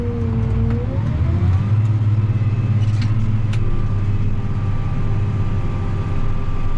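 An excavator's diesel engine revs up as the throttle opens, a close, loud rumbling drone rising in pitch and then holding steady with faint clanks over it.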